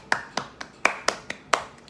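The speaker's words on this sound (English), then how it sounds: "Round of applause." Seven sharp, separate claps at an uneven pace, close and crisp, like one person clapping alone rather than a crowd.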